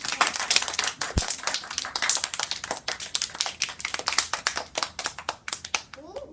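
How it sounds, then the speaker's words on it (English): A class applauds their teacher, Ms. Llewellyn, at a tower garden session: a few pairs of hands clapping briskly and unevenly, close by and fairly light, thinning out toward the end. "can you give a round of applause for our teacher"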